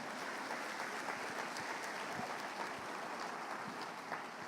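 Steady, faint applause from a church congregation, a dense patter of clapping that continues evenly throughout without any voices.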